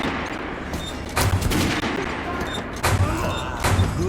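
Gunfire from a weapon in the video game Metro Last Light Redux, heard as three loud, sharp bursts spaced across a few seconds over a steady background din.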